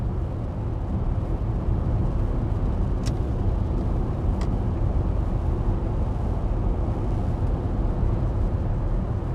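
Steady road and tyre roar inside the cabin of a BMW iX xDrive50 electric car cruising at highway speed, a constant low rumble with a couple of faint high clicks and no talking.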